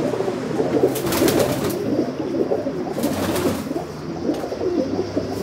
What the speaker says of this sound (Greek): Και τα κλασικά περιστέρια αυτά εδώ του Γόλη